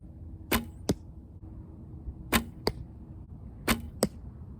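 Arrows loosed during archery practice strike targets in three pairs, each a sharp whoosh and thwack followed quickly by a second impact, crisp and close against a quiet outdoor background.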